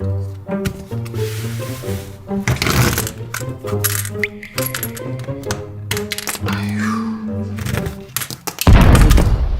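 A Lego brick separator built from three orange separators pops apart many tile bricks at once, producing dense rapid plastic clicks and snaps close up, with a heavier clatter of pieces near the end.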